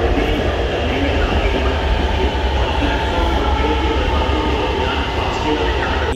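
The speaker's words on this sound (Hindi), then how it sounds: "खैर सिर्फ 2 मिनट के वेट करने के बाद सामने से ऑरेंज लाइन ट्रेन आ गई।" Orange Line metro train in Lahore pulling into an elevated station at seven in the morning, a steady loud rumble of wheels and motors filling the platform throughout, with no clear break or stop.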